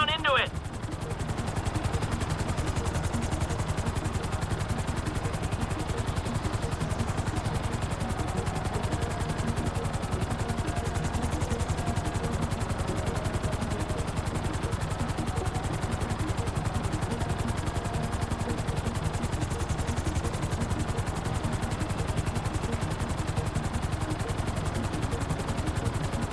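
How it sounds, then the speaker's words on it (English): A helicopter hovers in the Grand Theft Auto V video game, its rotor and engine making a steady, dense whirring drone that fills the whole stretch at an even loudness. "I need you to hold the chopper above it while I take a look."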